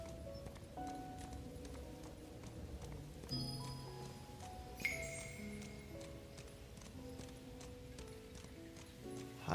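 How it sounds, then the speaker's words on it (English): Hooves clop in a steady, fairly faint rhythm as a horse climbs stairs in Where Winds Meet, under quiet game music, with one brief sharp tone partway through. "Taking my horse for a stroll up the stairs."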